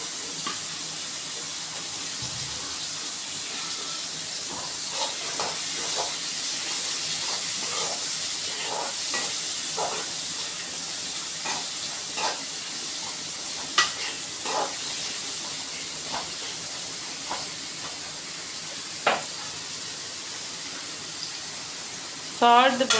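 Tomatoes and ginger garlic paste sauté in a pan for masala macaroni, giving a steady frying hiss with occasional stirring scrapes and a louder clatter at the end.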